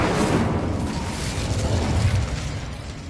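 A fire spell blast bursts out in a Harry Potter video game, a sustained roaring, crackling whoosh of flame that stays loud and dense for the whole stretch without a break.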